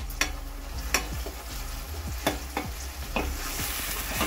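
Six to eight slit green chillies fry in a pan for a pulasa fish curry, with a soft continuous sizzle broken by several sharp scraping stir strokes, close and moderately quiet, no talking.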